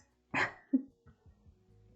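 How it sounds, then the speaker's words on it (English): A small dog lets out one sharp bark followed by a softer low grunt and a few faint thumps, then quiet, heard close and alone. "She's like randomly barking at shit as she's still down there"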